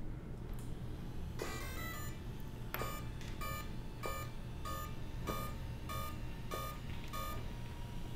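A Spektrum Smart ESC powering on gives a rising chirp followed by a regular series of sharp electronic startup beeps, clear and close over a steady low hum.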